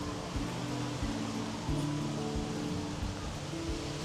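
Steady, strong cold December wind in Taichung, Taiwan, roaring as a continuous broadband rush with low buffeting rumble on the microphone, no talk over it.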